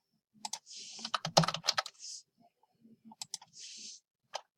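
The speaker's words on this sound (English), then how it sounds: "And then you just type in your possible answers in each of the boxes." Bursts of quick keystrokes on a computer keyboard as answers are typed, clustered clicks with short pauses between, close and clear with no talking.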